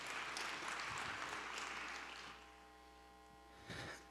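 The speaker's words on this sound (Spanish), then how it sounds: "Demos un aplauso a Cuy para recibirlo." Audience applause welcoming a speaker at a conference talk in Mexico, a dense patter of clapping that fades after two seconds, leaving a low electrical hum with a brief clap burst near the end.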